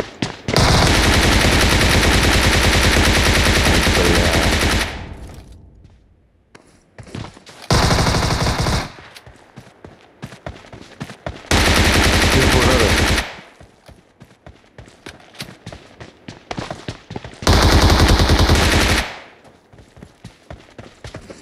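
Long, loud bursts of sustained automatic gunfire from PUBG Mobile, each lasting several seconds, alternate with quieter stretches of scattered shots and thuds, with some talk underneath.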